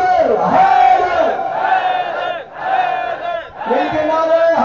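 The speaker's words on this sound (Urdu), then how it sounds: "آئیے سب مل کے بولو حیدر حیدر" A large crowd at a majlis chants a rhythmic religious slogan together in loud unison, the massed voices rising and falling in repeated phrases with brief dips between them.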